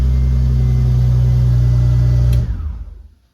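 A BMW E46 competition race car engine runs loud and steady at close range, then cuts out abruptly and rumbles down to silence.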